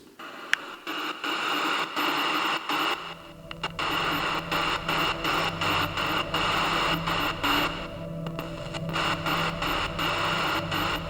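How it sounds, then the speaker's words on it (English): Continuous loud ghost box radio static hisses and crackles, choppy and stuttering as the signal sweeps rapidly, with brief dips and no clear voices, during a paranormal investigation at a true crime museum. "We use our ghost portal, which allows the spirits to come through using the white noise."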